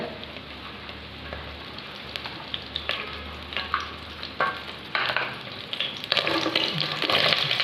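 Onion, tomato and green chilli sizzle and fry in hot oil, with a steady crackling hiss broken by sharp stirring scrapes that grow louder and denser toward the end; no one speaks.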